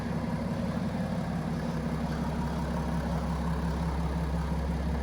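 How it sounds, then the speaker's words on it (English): A BMW 335d xDrive's straight-six twin-turbo diesel idles steadily, a constant low hum with an even tonal drone, close by and alone without talk. "Beautiful straight six twin power turbo diesel engine"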